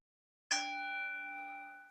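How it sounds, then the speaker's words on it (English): A meditation bell struck once during a mindfulness walking practice, giving a bright metallic ding followed by a long, clear ringing sustain that decays slowly with no talk around it. "today I'm going to use the bell. So you listen to the bell"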